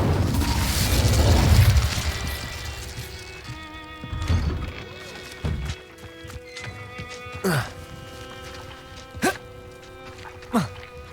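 Incendio fire spell cast in a video game: a loud, rushing burst of flame at first, fading into scattered thuds, clicks and short sharp impacts over a faint tonal backdrop.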